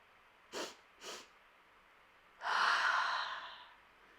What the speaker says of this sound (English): Sniff, sniff through the nose. Exhale, point the ankle.